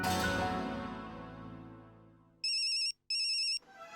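Incoming-call ringtone on a phone in a Hindi sitcom household scene: two short bursts of a bright, warbling electronic ring separated by a brief gap, clear and close, following a fading musical sting.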